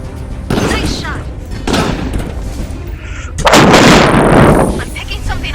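Gunfire in the VR shooter game Raw Data, played on an HTC Vive: loud, booming game shots come in heavy bursts with a dense, sustained volley near the end.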